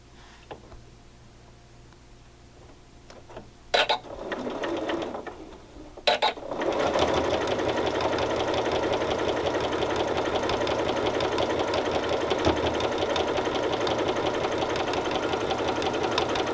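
A sewing machine stitches teal and raspberry 2.5 inch quilt strips together, starting after a few short clicks and handling noises, then running in one long, close, steady rapid chatter.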